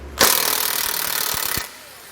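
A powered socket driver spins a 15mm bolt out on a 2021 Ford Ranger, one loud steady ratcheting whir of about one and a half seconds that starts and stops abruptly.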